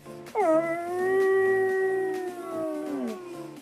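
A Samoyed dog gives one sustained, wavering howl lasting about three seconds, loud and near, rising at the start and sliding down at the end, with faint background sounds beneath.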